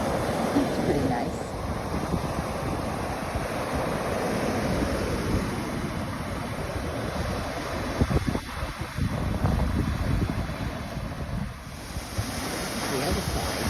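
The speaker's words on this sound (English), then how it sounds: "Waves breaking on the rocks here." Ocean waves break on rocks along the Cliff Walk in Newport, Rhode Island, a continuous washing roar with wind buffeting the microphone and occasional surges, fairly distant and steady.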